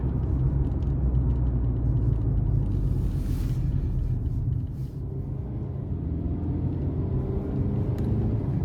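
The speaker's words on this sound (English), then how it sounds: "So when I put my foot down, I get those high revs there." Engine of a 2023 Hyundai Santa Cruz SEL pickup revving hard under heavy acceleration, a loud, steady low roar heard from the cabin with no talking.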